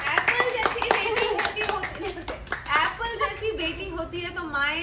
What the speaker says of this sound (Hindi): प्लीज ना प्रिया से ताली बजाओ ना